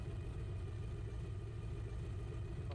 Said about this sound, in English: at idle, you can hear the V8 burble